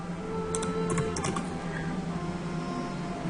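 A computer keyboard being typed on for a Google search, a brief cluster of quick key clicks near the start over a steady room hum, with a voice speaking throughout.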